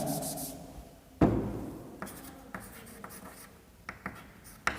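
Handwriting on paper during a biology lesson comes through as close, scratchy pen strokes in short separate bursts, with sharp taps between the strokes.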